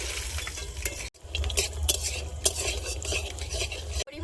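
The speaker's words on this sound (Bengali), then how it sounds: "মাছের তেলে বড়িটা ভেজে নেব।" Lentil dumplings fry in leftover fish oil in a pan, crackling and sizzling steadily while a utensil scrapes and stirs with frequent clinks against the metal, close and busy throughout.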